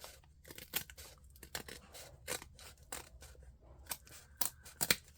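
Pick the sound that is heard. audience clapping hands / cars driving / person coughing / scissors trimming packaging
scissors trimming packaging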